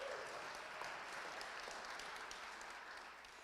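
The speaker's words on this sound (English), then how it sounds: "Give her another big round of applause." Sustained audience applause for a student at a poetry recitation state finals, dense and steady throughout before tapering slightly at the end, heard from within the hall.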